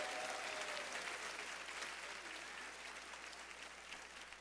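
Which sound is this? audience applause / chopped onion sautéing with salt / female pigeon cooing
audience applause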